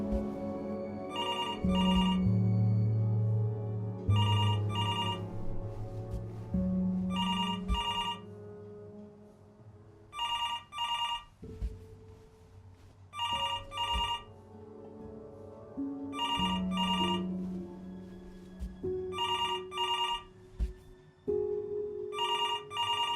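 A telephone rings in the video game Before Your Eyes, a repeated double-burst bell pattern sounding about every three seconds, loud and clear over low background music, with no talking.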